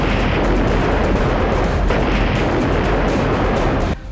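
Vehicle loaded with bombs detonating near a paramilitary headquarters in a city, heard as a loud, sustained roaring blast with continuous rumbling debris noise that cuts off abruptly near the end.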